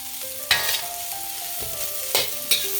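Fried rice stir-fried on a hibachi griddle with salt, pepper and garlic powder: a steady hiss of sizzling under three sharp metallic spatula scrapes, with no talking.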